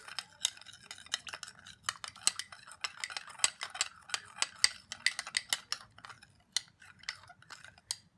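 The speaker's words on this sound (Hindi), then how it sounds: "इन सब चीज़ों को मिक्स करेंगे" A spoon clinks and taps rapidly against a small bowl while stirring a homemade lemon-juice lice-treatment mixture, quick irregular metallic ticks, close and fairly quiet, with no talk.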